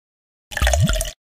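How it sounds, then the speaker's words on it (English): Water pours into a bathtub in a children's educational video game, a single smooth splash-and-gurgle with a rising pitch that lasts under a second, fairly loud and close, with no talking. "Tap on the container to pour water in the tub."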